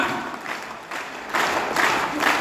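Applause from the audience at a Hindi poetry gathering (kavi sammelan) at a school in Sonipat comes in uneven bursts of clapping that swell louder midway and stay busy to the end.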